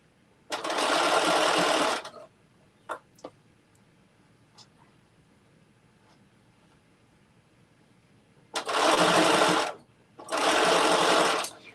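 A sewing machine stitching a bucket hat in three loud, close bursts, one long run, then a pause with a few small clicks and handling noises, then two more runs of stitching.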